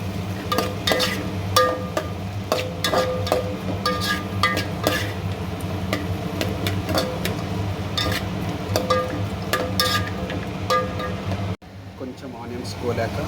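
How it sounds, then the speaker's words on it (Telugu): Chopped chillies, onions and garlic sizzle and fry in a pan for upma while a spoon stirs and scrapes steadily, with a voice talking over the continuous frying noise. "మిర్చిలు వేడయ్యాక ఆనియన్స్, వెల్లిపాయలు కట్ చేసుకున్నవి వేయాలి. అది మొత్తం మిశ్రమాన్ని కలపాలి."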